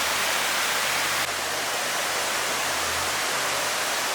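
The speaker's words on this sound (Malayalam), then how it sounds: "ഒരു ഏരിയ മുഴുവൻ പരന്നാണ് വെള്ളം ഒഴുകുന്നത്" Kuang Si waterfall in Laos, its water spreading across a wide area, pours in a loud, steady broadband rush that holds constant throughout with no voices.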